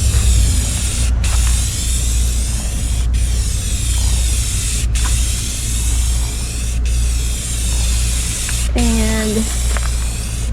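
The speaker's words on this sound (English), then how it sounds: "Devin's about to spray paint the other half before we install it" An aerosol can spray-paints black over a primered gas tank for a 1988 GMC OBS truck, with long loud continuous hissing bursts broken by brief pauses, close up, over a low rumble and a short voice.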